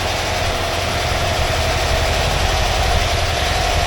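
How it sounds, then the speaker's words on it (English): A 1982 Volkswagen Vanagon Westfalia's air-cooled engine runs in gear, spinning the wheels with the brake holding it, giving a steady, close, loud low drone with constant vibration and no break. "So I'll put it in gear and I'll let it spin the wheels here a bit."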